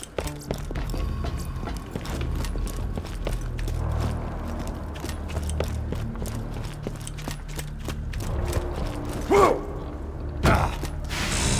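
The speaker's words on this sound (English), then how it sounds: "Now to the aptly named antidote machine." The antidote machine in a video game runs its mechanism with steady creaking and ratcheting clicks and gear-like clatter close up, plus a couple of sharper bursts near the end.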